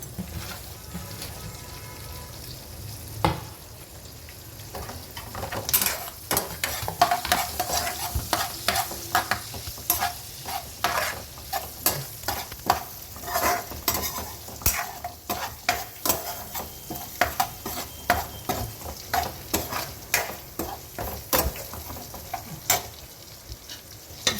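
Green chillies and fresh ginger fry in a pan as a spoon stirs them repeatedly, giving busy rhythmic scrapes and clinks over a constant sizzle, with no talking.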